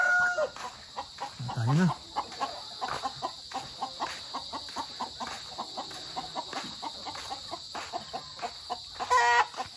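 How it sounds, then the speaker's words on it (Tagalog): A young rooster clucks repeatedly in a steady series of short calls, nearby and clear, with a brief crow-like call early and a voice speaking briefly near the end. "Yung barako na to."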